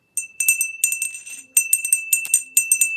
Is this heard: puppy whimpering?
no